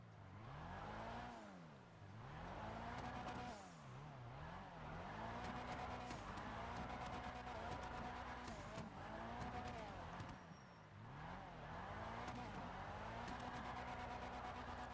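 A car drifts around a custom track in Grand Theft Auto, its engine revving up and down in steady waves while the tires skid, loud and continuous from start to finish.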